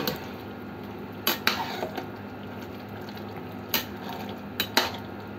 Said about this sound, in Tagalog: Tapos ilalagay na po natin dun sa giniling ang ating munggo. Ilagay na po sa minix ko na sa giniling natin.